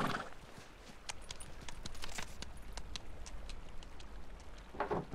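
A horse plods through heavy snow in the video game Pentiment, its hooves landing in a rough, uneven series of soft thuds over a hissing wintry ambience, fairly close and moderately loud.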